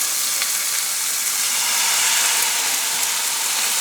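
Steaks laid into a hot pan fry with a loud, steady, close sizzle and hiss that stays even throughout, with no talk.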